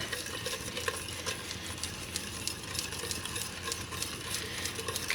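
Sugar is whisked into strawberry jam at a rolling boil on a stove, a quiet, continuous bubbling with faint clicks of the whisk against the pot and no talking.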